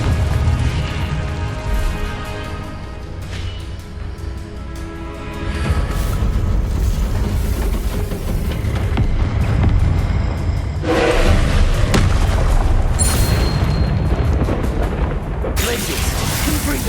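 Spell-cast explosions in the video game Hogwarts Legacy, a series of booming bursts and crackling blasts over a continuous combat din, loud and layered across the whole stretch.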